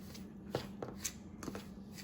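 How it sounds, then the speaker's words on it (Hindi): Flour, semolina and salt for bhature dough mixed together by hand in a bowl: a few soft, dry scraping and rubbing sweeps at irregular intervals, quiet and close, with no talking. "अब इनको एक बार मिक्स कर लेंगे अच्छे से, ड्राई इंग्रेडिएंट्स को।"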